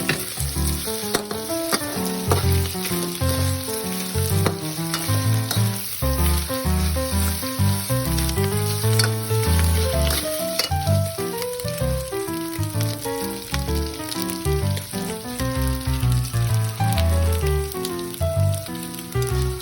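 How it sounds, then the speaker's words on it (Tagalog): Sliced beef brisket sizzles and fries in a hot pan for a Filipino-style dish, a continuous crackling hiss that is joined by stirring and runs beneath steady background music. "Idagdag na rin ang hiniwang beef brisket."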